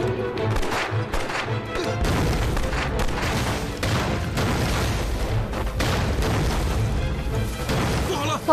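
Hand grenades explode in a battle scene from a martial arts action drama: repeated heavy booms mixed with crashing bursts and gunfire-like pops, loud and continuous for several seconds.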